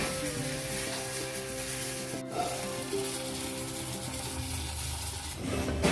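Fish frying in a pan in a home kitchen, a steady sizzle and crackle of hot oil with soft rubbing and stirring scrapes, continuous and close, with a tonal hum running underneath throughout.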